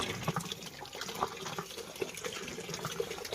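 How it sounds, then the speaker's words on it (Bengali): Water runs steadily from a household tap into a container, filling it with a continuous soft splashing and gurgle, at moderate distance with faint background noise. "মা এখানে জল ভরছে"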